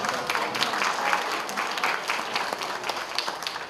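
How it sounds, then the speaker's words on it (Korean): Steady, fairly loud applause from a crowd of guests at a first-birthday party, dense clapping sustained throughout without pause. "큰 박수 한번 부탁드리겠습니다"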